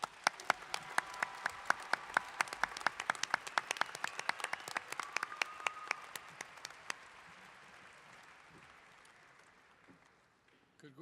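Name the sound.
audience applauding graduates at commencement ceremony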